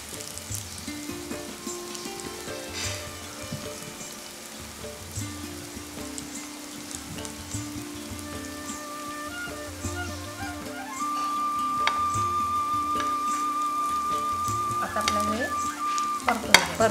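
Mixed vegetables sauté in a pan with a long, even sizzle like light rain, which swells louder partway through under a faint steady hum, with scattered clinks and no voices.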